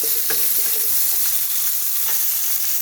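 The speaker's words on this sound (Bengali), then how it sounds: "ভালো করে একটু নাড়াচাড়া করে একটু হাফ ভাজা ভাজা মতো করে নেব।" Sour mango pieces with mustard seeds and dried chilli are stirred and half-fried in hot oil, making a continuous close sizzle with a few soft scraping strokes of the spoon and no voices.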